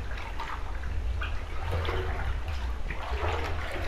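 A character moves quickly through water in a Backrooms horror video game, producing continuous rushing, sloshing water noise with no pauses and no voices.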